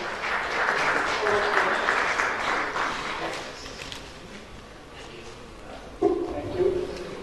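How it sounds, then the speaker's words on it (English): Audience applause for the speakers at an energy storage conference session, a broad steady wash of clapping that fades toward the end, with a voice cutting in near the close. "A big round of applause for all the speakers for this session."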